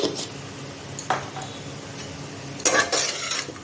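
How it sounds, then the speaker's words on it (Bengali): Pieces of elephant foot yam fry with salt in a pan, heard as sparse metallic clinks and scrapes of a utensil against the pan, with a faint sizzle between the louder knocks. "নুন ওলটাকে দিয়ে দু মিনিটের মতন ভাজবো"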